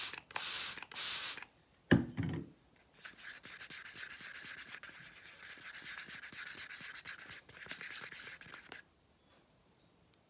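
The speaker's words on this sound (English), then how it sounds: "I use a spray bottle with water" Water is squirted from a spray bottle into paint being mixed for a paint pour, heard as a few short bright hisses followed by a long stretch of steady scraping and rubbing from stirring.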